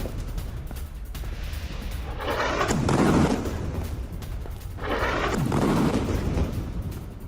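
Two heavy, rumbling blasts from Israeli bombing at the Nuseirat camp in central Gaza, each swelling and fading over about a second against a steady noisy background, with no talk over them.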